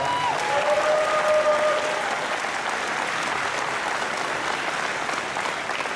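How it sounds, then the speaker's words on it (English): A crowd at a wrestling event applauds steadily, a broad wash of clapping that starts strong and tapers slightly, heard without talk over it. "So you guys give her a round of applause"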